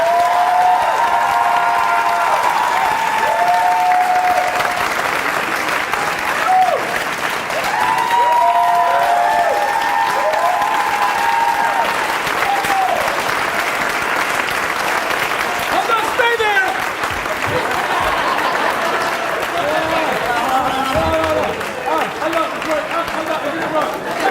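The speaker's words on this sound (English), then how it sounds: "let's get every single one of the individuals up here a round of applause" Sustained audience applause for a group of individuals called to the front at a diversity monologues event, dense and steady throughout with a few voices and cheers mixed in near the end.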